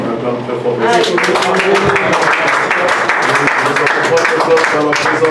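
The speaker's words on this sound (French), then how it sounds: "On acclame très fort." Loud, sustained applause from a church congregation during an evening service, a dense wash of clapping that swells after the first second and carries on under crowd voices and cheering throughout.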